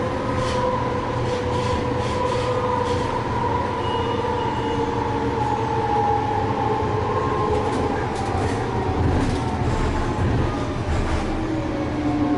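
Light rail train running near Salt Lake City airport, a steady loud rumble with rising and falling motor whine throughout, heard from inside the car without talk.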